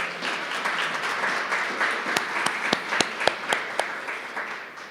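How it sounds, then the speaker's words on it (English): A lecture audience applauds a professor at a memorial lecture: dense, steady clapping that thins toward the end into a handful of loud, separate claps, with no one speaking. "I think you can join me in another round of applause for Professor Klopper."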